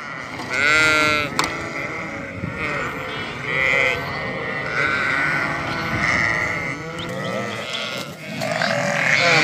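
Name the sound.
Hissar sheep lambs bleating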